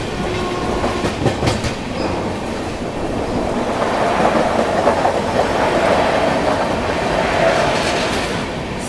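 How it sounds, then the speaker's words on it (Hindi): A CR Rajdhani Express train runs through Kasara railway station without stopping, its steady rumble and clickety-clack of wheels building toward the middle and holding loud and close for the whole stretch. "अपनी सीआर राजधानी एक्सप्रेस स्किप कर रही है कसारा रेलवे स्टेशन को"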